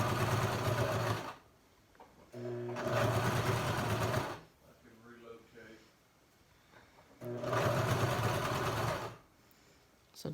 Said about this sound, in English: I'm just still sewing along the edge and this now attaching it to the mask.